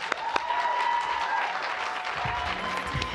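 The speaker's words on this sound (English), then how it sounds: "Clap it up for yourselves." Audience applause at a youth poetry recitation event, steady clapping from a crowd through the whole stretch, with a few sharp claps near the start and a faint tone running underneath.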